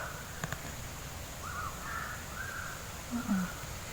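A crow caws a few times in the distance, faint against a steady background hiss.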